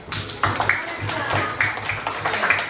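A third-grade class in an Indonesian elementary school claps for a classmate named Sabina, the children's hands striking in quick, rhythmic bursts close by, mixed with young voices.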